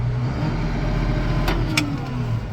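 A Case IH 7120 tractor's engine drones loudly and close up with a steady, deep hum while its throttle is set, with no speech over it.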